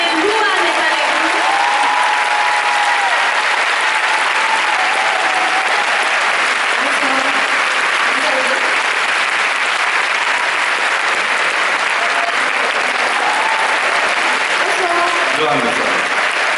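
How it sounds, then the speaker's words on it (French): Sustained applause from a film premiere audience, broad and steady for the whole stretch, with a few voices talking faintly beneath the clapping. "Est-ce qu'on peut l'applaudir s'il vous plaît?"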